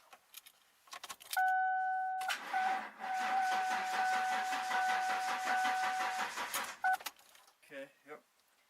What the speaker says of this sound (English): It's enough to crank it over.